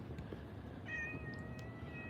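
A pet cat lets out a single drawn-out meow partway through, fairly close and clear over a low steady background rumble, with no one talking.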